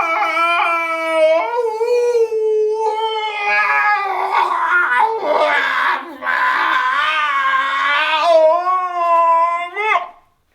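A human voice imitates a long, wavering dingo howl, rising and falling over several seconds with whimpering breaks.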